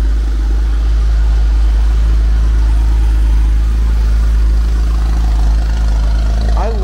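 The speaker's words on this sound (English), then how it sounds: "I love the sound of this exhaust." A 1972 Mercedes-Benz 280 SE W108 idles with a deep, steady exhaust rumble, loud and close, holding an even tone until a brief blip near the end.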